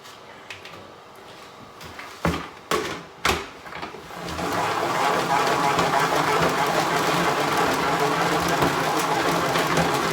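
Wild black raspberry leaves are spun dry in a salad spinner, giving a steady whirring rattle that starts after a few short knocks and holds on loudly and close.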